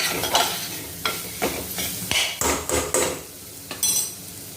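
Spices roast in a dry pan while a metal spoon stirs and scrapes them in repeated rhythmic strokes, each scrape a loud close clatter over a soft underlying sizzle, with no voices.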